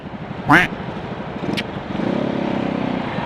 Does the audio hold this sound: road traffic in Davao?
yes